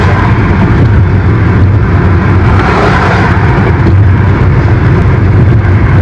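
A car drives along a road, producing a steady, loud engine and tyre rumble that continues unbroken throughout, with no talking.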